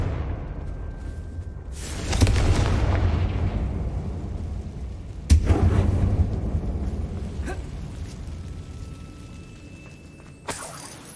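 Confringo fire spell blasts in Hogwarts Legacy, cast inside a closed mine resembling a tomb: two loud booming explosions with long rumbling decays, followed by a sharp third burst at the end.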